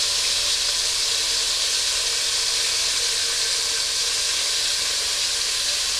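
Mutton chops fry in a pan, giving off a loud, steady, unbroken hiss and sizzle that holds evenly throughout with no talk.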